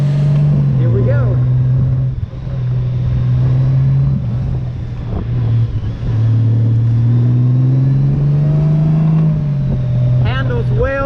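A 2022 Honda Goldwing DCT Tour motorcycle in sport mode, climbing Lookout Mountain, drones loud and close, its engine pitch rising, dipping with the automatic shifts and climbing again under steady wind noise.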